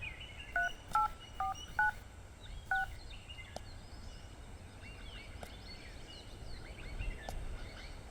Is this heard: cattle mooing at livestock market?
no